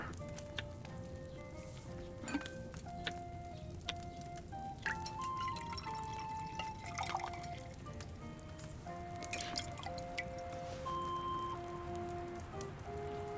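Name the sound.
pouring liquid in alchemy, video game Kingdom Come: Deliverance II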